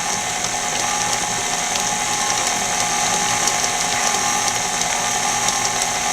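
Electric mixer beating eggs into choux dough for chocolate eclairs, a steady close mechanical whir with a faint rattling texture that runs unbroken throughout, no voices.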